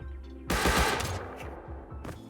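A Thompson submachine gun in the Rust video game fires a rapid burst of loud, close shots, followed by a few scattered quieter shots.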